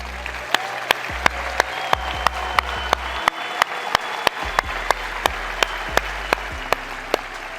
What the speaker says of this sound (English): so I can clap for you and so people can clap for you